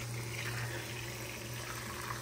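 Water runs steadily into a cooking pot of beef kare-kare with vegetables, a continuous pouring rush with a low steady hum beneath it.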